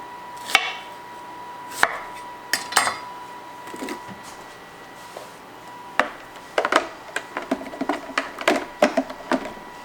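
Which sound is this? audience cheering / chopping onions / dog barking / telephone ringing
chopping onions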